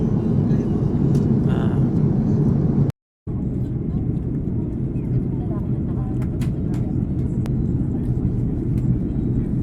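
Passenger airplane cabin roar during landing, a loud steady low rumble filling the whole stretch with a brief dropout, while people talk faintly over it.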